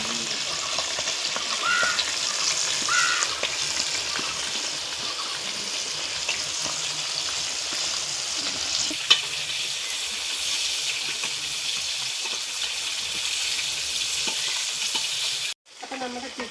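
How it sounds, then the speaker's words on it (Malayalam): Chicken pieces dropped into hot oil for mandi, frying with a steady bright sizzle and hiss that goes on for several seconds, with a brief clatter and a drop near the end. "അപ്പോൾ എണ്ണ ചൂടായി വന്നിട്ടുണ്ട്. നമുക്ക് ചിക്കൻ ഇട്ട് കൊടുക്കാവേ."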